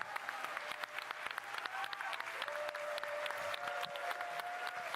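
An audience applauds steadily for the whole stretch, a dense wash of many clapping hands with a faint tonal hum running underneath, moderately quiet and without any talk over it.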